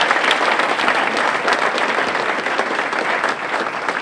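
An audience at a public lecture claps steadily, a loud, dense burst of applause that holds for the whole stretch without letup.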